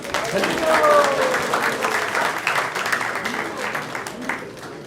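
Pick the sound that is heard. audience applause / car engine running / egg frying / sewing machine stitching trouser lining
audience applause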